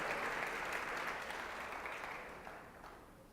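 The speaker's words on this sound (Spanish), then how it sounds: "Démosle un aplauso más grande al Señor por los hermanos fieles que hay entre nosotros." A church congregation applauds for the Lord, a steady wash of many hands clapping that slowly fades, with no voices on top.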